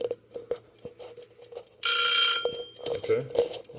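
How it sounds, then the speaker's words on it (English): A kitchen timer alarm goes off during an electrolyzer water test, a bright, dense ringing burst lasting about half a second, with clicks and handling noises before it and a few softer knocks after. "the timer's up"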